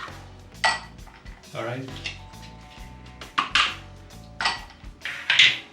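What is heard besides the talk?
stirring espresso to cool it for freddo espresso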